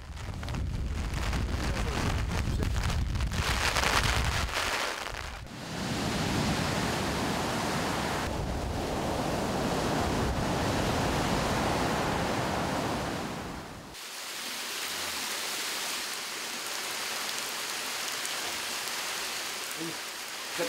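Typhoon wind and driving rain on a remote island, a dense, loud roar of gusts and downpour that swells and shifts but never lets up, with no talk.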